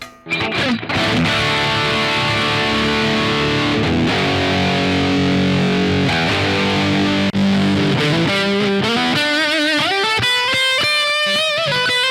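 Electric guitar played through a Yamaha THR amp with spring reverb, a loud, continuous stretch of sustained chords and ringing notes with a washy, distorted tail, moving into faster picked melodic runs near the end. Nobody talks over it.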